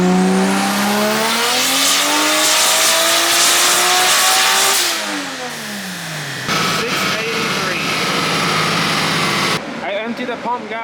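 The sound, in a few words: 2JZ-powered BMW E36 engine revving on dyno pull, E85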